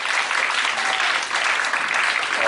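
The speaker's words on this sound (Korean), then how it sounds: "여러분 나올 때 큰 박수로 격려해 주시기 바랍니다" A church youth group congregation applauds to welcome a young man coming forward, a dense, steady wash of clapping that stays loud and even throughout with no talking.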